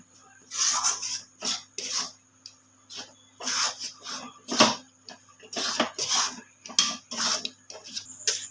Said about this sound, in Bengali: কলার সঙ্গে দুধের সঙ্গে ময়দাটা খুব ভালো করে মিশিয়ে নিতে হবে।